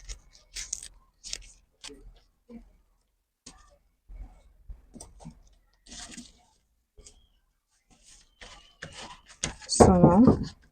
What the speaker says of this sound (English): So now I'll just cut my princess dart line like this